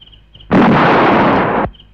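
A loud amplifier explosion at a wedding house bursts suddenly into a dense, roaring blast that holds for about a second before cutting off sharply, standing alone with no speech over it.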